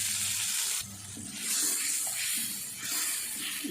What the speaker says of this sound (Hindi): थोड़ा सा पानी मैं और डाल दूँगी ताकि मसाला हमारा अच्छे से